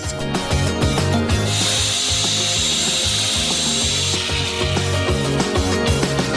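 Crushed nuts being mixed into cream with a mixer until smooth, a steady whirring motor hum with a scraping, grinding texture that runs continuously, rising in pitch partway through.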